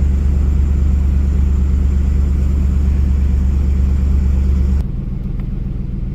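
A 2003 Ford F150 pickup engine runs close by with a loud, steady, deep rumble for several seconds, then drops sharply to a quieter level near the end.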